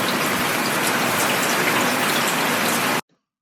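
Steady, dense rain sound effect, a loud unbroken hiss of many drops that runs without pause for about three seconds and then cuts off abruptly into silence.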